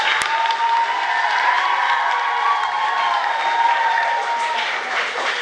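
A school audience at a student government presidential debate cheers and claps for the candidates, a loud sustained wash of crowd noise with children shouting and whooping through it.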